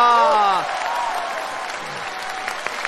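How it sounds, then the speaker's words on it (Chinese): A crowd at a comedy sketch claps to welcome an official. The applause starts loud and fades after about half a second, with speech and faint cheering mixed in, and a few scattered claps follow. "我们热烈的掌声欢迎领导光临指导"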